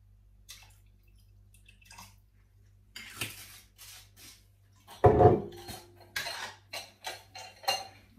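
Amaretto being poured into a Thermomix bowl while making sour cherry and orange jelly, a short splashing pour following faint clinks and drips, quiet with no voices.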